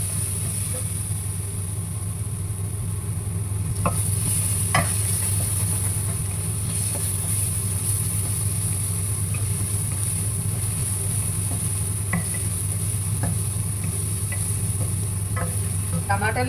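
Chicken frying in a pan with onions and ginger garlic paste, a continuous close sizzle with occasional spoon taps and stirring scrapes, no talk.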